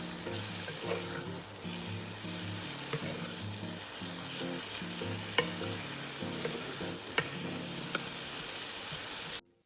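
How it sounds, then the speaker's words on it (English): Zucchini seasoned with salt and pepper stir-frying in a pan: a steady close sizzle with scraping stirs and a few sharp clinks, running continuously under low background music. "Then just continue to stir fry till the zucchini is soft and pliable."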